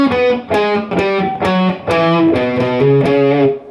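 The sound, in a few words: distorted electric guitar riff from a solo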